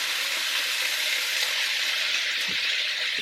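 Food sears in a hot pan with a loud, continuous, even sizzle close by and a few faint knocks underneath, and there is no talking.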